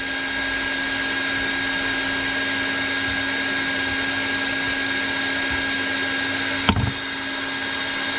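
A heat gun blows hot air onto a fishing rod being rebuilt, with a steady whooshing whir and a constant hum, and a brief clunk near the end.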